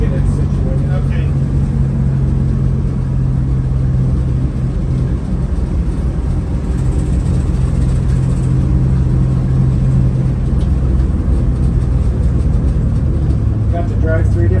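A classic Tahoe Truckee school bus engine rumbles low and steady while driving, loud and close from inside the cabin, with people talking over it.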